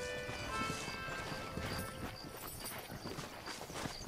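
Horse hooves clip-clopping in Red Dead Redemption, a steady trotting rhythm under game music and ambient noise, moderately close and not very loud.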